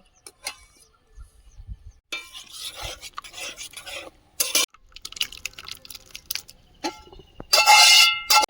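Small amounts poured into a pan for tempering spices in a Bengali home kitchen, with scattered metallic clinks and scraping, then a brief loud sizzle burst near the end, close and sharp with quiet gaps between.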